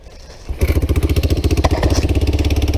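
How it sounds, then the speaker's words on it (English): An old Yamaha three-wheeler engine catches after a pull start, about half a second of quiet before it fires, then settles into a loud, close, steady chugging idle with no voices over it. "old Yamaha, fire right up"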